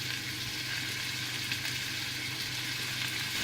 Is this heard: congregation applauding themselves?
no